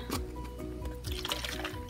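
Clear rinse water poured into a Water Babies Special Delivery Baby drink-and-wet doll, a close, steady liquid fill with drips and squishy gurgles, no talking over it.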